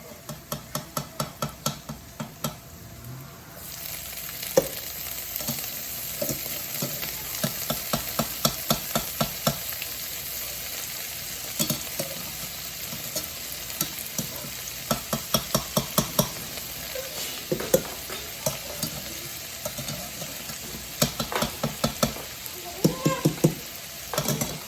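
Bitter gourd sizzles as it sautés in a pan, with steady frying hiss and repeated clicking scrapes of a utensil stirring it through the whole stretch, close and fairly loud.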